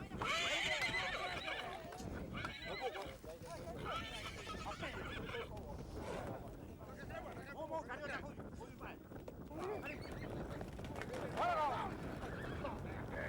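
Horses on the island of Ua Huka whinny and neigh as they are rounded up for capture, with hoof clatter and wind noise outdoors; a voice speaks over the herd.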